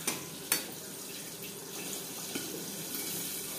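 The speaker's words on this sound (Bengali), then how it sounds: "আর দিয়ে দেবো মিক্সচারের জারটা দিয়ে জল, যাতে পুরো মশলাটাই অ্যাড করতে পারি।" Water poured from a mixer jar into a pan of spiced potatoes, a continuous splashing, hissing flow with a couple of sharp clinks at the start, close and steady throughout.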